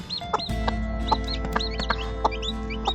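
A mother hen, a former battery-farm layer, clucks softly and steadily beside her day-old chicks, whose thin high peeps repeat throughout over a low constant hum.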